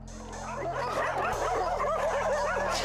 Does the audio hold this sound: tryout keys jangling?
no